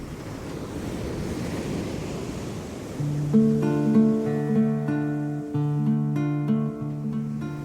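Sea waves wash and roll steadily in an audio drama of Frankenstein, broad surging noise that is soon joined by sustained orchestral music swelling over it, with no speech.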